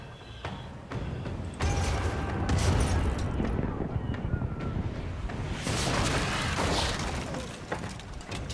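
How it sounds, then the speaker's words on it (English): Starboard ship cannons firing grapeshot in the video game Pillars of Eternity 2: Deadfire give scattered booming shots and clattering impacts over a low rumble, partly under a voice. "And we will fire the starboard cannons at"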